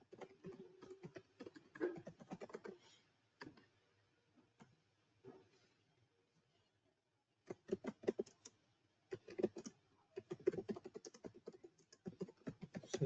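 Keys clatter on a computer keyboard in quick bursts of close typing, with a quiet pause in the middle before another run of rapid keystrokes.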